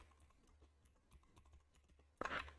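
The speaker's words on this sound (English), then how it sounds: "I have a loud keyboard" A loud computer keyboard clatters with quick, uneven keystrokes close to the microphone, then a sharper burst of louder noise right at the end.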